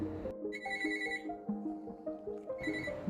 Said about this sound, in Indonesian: Telepon berdering dari nomor yang tak dikenal.